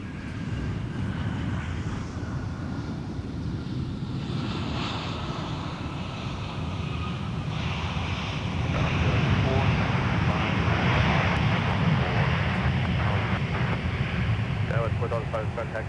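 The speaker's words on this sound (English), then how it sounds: "And now arriving from Bentonville, Arkansas is a CRJ 900 3816" A CRJ 900 regional jet arrives to land at Minneapolis–St. Paul airport, a steady broadband engine roar that swells as it nears, with wind noise and scattered voices underneath.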